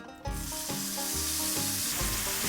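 Cumin, two cloves and a cardamom pod hitting hot ghee for a restaurant-style paneer masala, bursting into a loud, continuous sizzle and crackle up close, with no talk.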